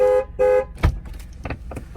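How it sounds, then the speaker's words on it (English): A Chevrolet Cruze LTZ sounds its horn twice in quick succession, two short loud toots close by, followed by faint clicks and cabin handling noises. "it's gonna honk 2 times"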